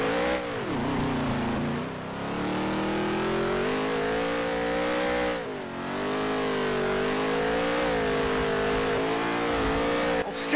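Race car engine in Nascar Heat 3, loud and close, revving up and down through shifting pitches with two brief dips where the throttle drops, then a sharp jolt near the end, no voices.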